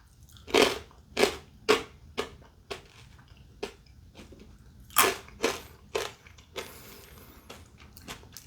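Crunchy corn snacks with a heavy bright-red chili coating, roasted-pepper flavored and similar to Flamin' Hot Cheetos, are bitten and chewed up close: a run of loud crisp crunches in uneven bursts with quieter chewing between.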